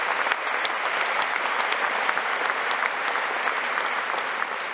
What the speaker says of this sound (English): So this round of applause is for Father Giussani, not for me.